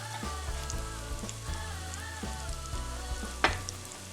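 Cooked fresh pigeon peas being stirred into a pot of frying veggie mince stew, a soft continuous sizzle with a few light scraping stirs, fairly quiet.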